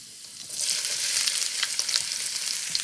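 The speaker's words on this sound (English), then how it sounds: "Got my garlic in the oil." Garlic sizzles in hot frying oil with a steady, close, bright crackle and small pops, and no talking.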